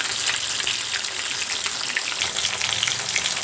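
Fish fillets frying in hot oil in a pan give off a steady, dense sizzle with crackling pops, close and loud throughout, with no voices.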